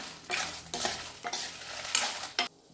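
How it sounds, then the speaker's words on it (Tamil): Chillies, tamarind and spices for a dosa chutney being stirred in a hot pan, five distinct scraping strokes with short sizzling bursts, close and clear with no talk. "இப்போ இது எல்லாம் சேர்த்து நல்லா வறுத்துக்கலாம்."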